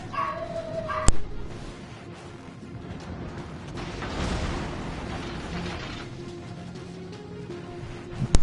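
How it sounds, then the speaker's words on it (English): A pet dog at home barks and whimpers in the background, an early sharp yip followed by scattered whines and yelps, fairly faint and set against a steady hum. "my stupid dog in the background that can never not shut up"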